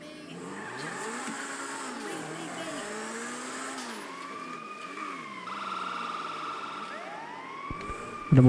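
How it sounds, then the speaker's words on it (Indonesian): An ambulance siren in the video game GTA V wails in repeated rising and falling sweeps, loud and continuous, with other tones layered in and an abrupt louder burst at the very end. "Ada mobil ambulan nih."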